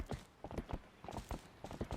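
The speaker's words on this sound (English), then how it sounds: "at the beginning of this game, unlike other Zelda games, you start out with a horse" Horse hooves clip-clop in a steady rhythm in the video game Zelda: Twilight Princess HD, several close, distinct hoofbeats repeating over two seconds with no talk.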